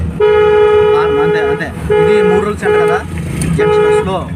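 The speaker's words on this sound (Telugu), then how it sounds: "హార్న్" A car horn honks loudly several times in a row, a long blast then shorter toots, over road noise with a voice nearby.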